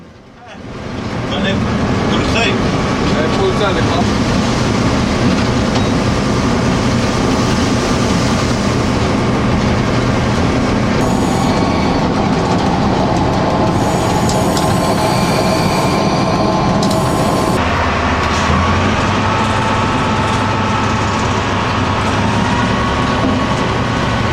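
A locomotive runs along a line in Bulgaria, heard from inside the driver's cab as a loud, steady rumble and rattle with a shift in tone partway through. Voices are faintly present beneath the engine noise.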